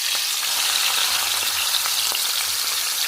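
Onions fry in oil rendered from hilsa fish, a loud, dense, continuous sizzle up close, with a few faint ticks of stirring and no voices.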